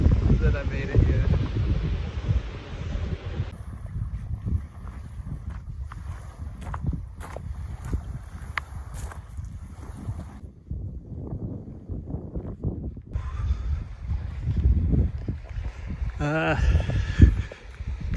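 Cold wind gusts across the Newfoundland coast on the Great Northern Peninsula, a steady rumbling buffet of wind noise on the microphone with occasional surges, a voice talking throughout.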